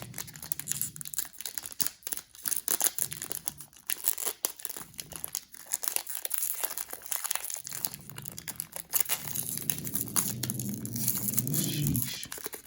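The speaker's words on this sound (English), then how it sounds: "I gotta give props to the people who are able to open these packs a lot more easily" Plastic wrapping on a Magic: The Gathering card pack crinkles and tears in irregular bursts, close and fairly loud. The struggle continues for several seconds with a brief voice murmuring now and then.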